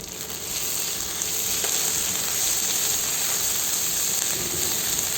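Finely chopped garlic and chilies sautéing in a hot pan, a loud steady hissing sizzle up close with light stirring underneath, no talk.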